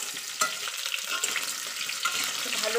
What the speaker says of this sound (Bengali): আমি আরেকটু ভেজে নিচ্ছি।